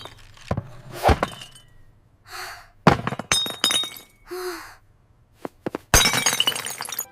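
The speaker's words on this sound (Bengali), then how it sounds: "ফুলদানি ভেঙে ফেলেছি" A cartoon sound effect of a vase breaking, with several sharp crashes and glassy clinks separated by quiet gaps and ending in a bright, scattering shatter.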